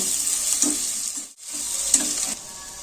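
Ginger paste fries and sizzles steadily in a pan, with a brief break where it is stirred, a close, even hiss continuing throughout with no voices.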